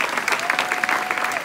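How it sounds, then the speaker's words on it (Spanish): Dense applause from a church summer camp audience of young people, a steady wash of many hands clapping close by for the whole stretch, with faint voices mixed in. "Le damos un aplauso al Señor."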